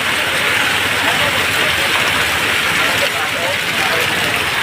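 Heavy rain pours down steadily in Chhapi village, a loud, continuous, even roar of water on surfaces with no breaks.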